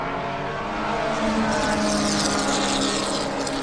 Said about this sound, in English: But there go the rasp of the Formula V's